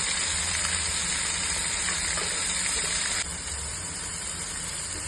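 Ginger garlic paste sizzles in a pan with softened onions and tomatoes while a mushroom biryani is cooked, a steady close hiss of frying that drops a little softer partway through.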